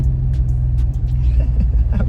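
A car approaches and drives past close by on a road, with a steady, loud low engine rumble that holds for about two seconds.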